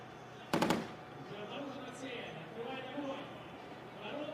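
Heavy 12.7mm gunfire on a military firing range at a tank competition: a sharp burst of rapid shots, then a faint far-off rumble under a steady voice.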